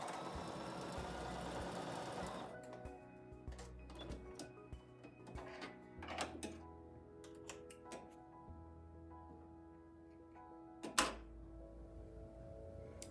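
A sewing machine stitches fabric in close, quiet bursts, first a fast continuous run then slower stop-and-start stitching with soft clicks and a louder clunk near the end.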